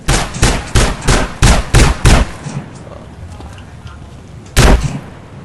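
Gunfire in the video game GTA: a rapid string of about seven loud, close shots in quick rhythm, then a pause with quiet background and a single further shot.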